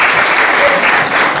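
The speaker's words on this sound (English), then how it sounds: "Round of applause." An audience applauds the panelists of a Latina leaders event, a dense, loud burst of sustained clapping with no pauses.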